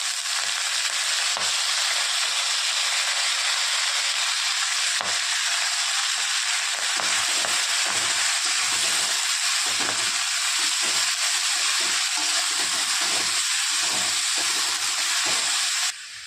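Fenugreek leaves dropped into hot oil with asafoetida, chilli and garlic give a loud, continuous frying hiss that fills the whole stretch with barely any pause, close and steady.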